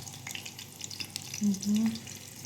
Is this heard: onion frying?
yes